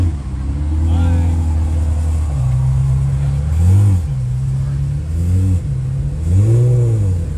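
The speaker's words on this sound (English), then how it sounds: "The Ferrari leaving." Ferrari leaving a JDM cars and coffee meet, its engine droning steadily and then revving hard in several short rising and falling bursts as it drives away, loud and close, with voices in the background.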